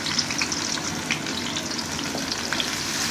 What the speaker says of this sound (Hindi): पहले घी में हम प्याज डाल लेंगे